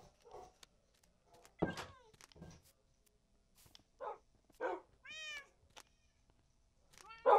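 Video-game cats meow in several short, distinct calls spread out over quiet gaps, with a few yips and small clicks between them and no talking.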